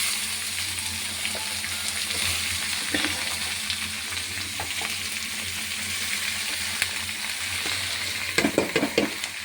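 Ash gourd and green chillies frying in a pan give a steady, close hiss and sizzle throughout, with a few brief stirring scrapes near the end and no talking.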